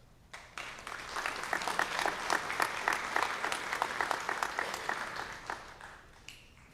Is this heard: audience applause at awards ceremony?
yes